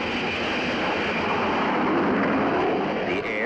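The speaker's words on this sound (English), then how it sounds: "The only word to describe the launching of jet planes from the deck of a carrier is incredible." Jet fighters roar on the deck of the aircraft carrier USS Franklin during catapult launches, a loud, continuous broadband blast of engine noise with a slight shift near the end, filling the whole stretch.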